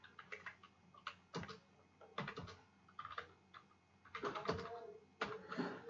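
Irregular bursts of keystrokes on a computer keyboard as code comments are typed in an EMU8086 assembly editor, quick clusters of clicks with short pauses, fairly faint and close.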